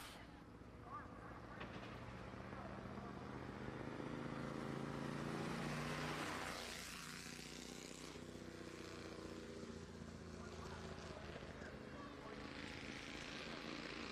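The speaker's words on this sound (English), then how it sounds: "Next car rolling out, Bandolero, number 75." A Bandolero race car rolling out for qualifying at Madera Speedway, its small engine buzzing and building to a loud pass before fading away, with a track announcer talking over it.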